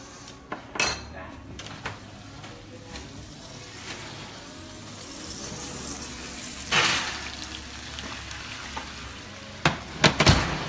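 Sauce cooking down in a cast iron skillet beside a resting T-bone steak gives a steady, soft sizzle. Sharp clanks of pans and utensils cut through it near the start and end.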